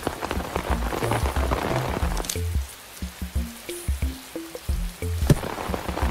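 Cartoon rain falling, a dense patter that opens the clip and then thins into separate plinking drops with soft splashes, close and steady.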